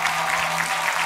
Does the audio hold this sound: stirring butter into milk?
no